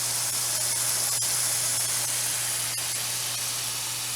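Boneless teriyaki chicken fries in a covered pan over medium-high heat, giving a steady, even sizzle and hiss with no talking.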